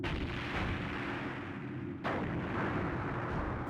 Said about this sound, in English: It sounds like cannon fire.